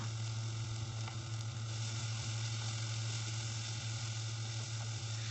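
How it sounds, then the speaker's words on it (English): Continuous, even sizzling of paste sautéing in hot oil in a frying pan, with a low steady hum underneath and no talking. "Now we will saute our paste using the same frying pan, the same oil."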